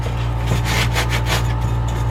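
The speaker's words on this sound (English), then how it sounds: "I'm opting to just sand it so I'll have a little more control over it." Hand sanding the baked-on crust of an old carbon steel fry pan, a steady close scratchy rubbing in repeated strokes over a constant low hum.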